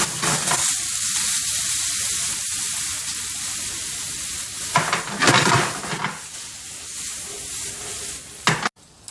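Mushrooms sizzle steadily in a pan of oil and a knob of butter, with a few louder bursts of stirring and scraping against the pan partway through and near the end.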